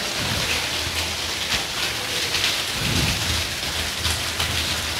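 Heavy rain pours in a dense, loud roar, with low rumbles of thunder rolling underneath throughout, and no one speaking.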